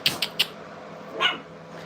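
Brittany puppies at a training kennel give three quick sharp yips close together, then after a short pause one longer, higher bark, clear and nearby with little else around.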